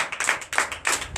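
A church congregation at a Sunday service claps in acclamation, with several quick bursts of loud, close hand claps in an uneven rhythm.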